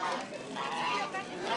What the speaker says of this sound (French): Premier contact de la journée avec le public, une déambulation des oies, rodées à l'exercice.